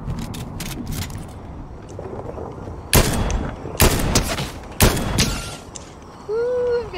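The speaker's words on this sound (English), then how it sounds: "Ooh, I'm getting shot at." Gunfire in the video game Fortnite, scattered distant shots early, then several loud sharp cracks spaced about a second apart, with a short voice heard at the end.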